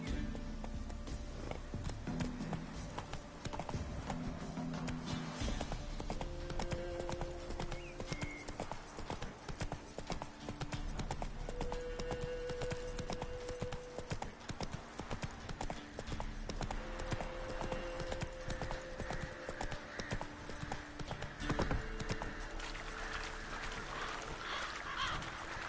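Horse hooves clip-clopping at a steady walking rhythm in The Witcher 3, a continuous run of hoofbeats under game music and ambience, with a brief whinny-like call partway through.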